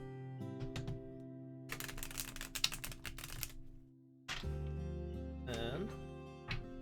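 Tarot cards are shuffled by hand in a dense burst of rapid riffling clicks that lasts a couple of seconds, set between stretches of steady background music with a tonal hum.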